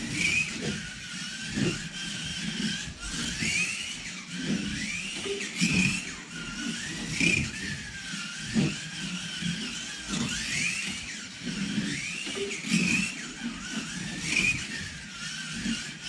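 GT3 race car engine pulling hard through a qualifying session, a steady loud drone with repeated surges and rising pitch sweeps as it accelerates, broken by brief tire squeals, with no talk.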